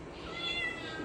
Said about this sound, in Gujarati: જો આજે બિલાડી માસી આવ્યા છે